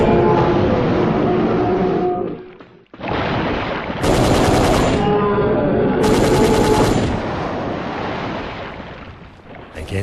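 Rapid machine-gun fire blasting dinosaurs in an arcade shooter video game, loud and continuous, with a brief pause near the three-second mark and bright crackling bursts layered over the dense firing.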